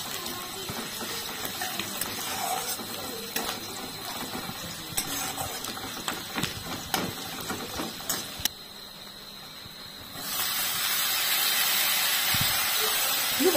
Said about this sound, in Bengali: কুকারে সিটি দেওয়া চলছে